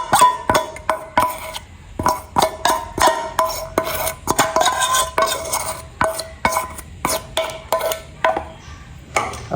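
A spoon or spatula scrapes and taps around a bowl while dark chocolate cream is folded into fudgy brownie batter, irregular clinks and knocks close by, with no talking.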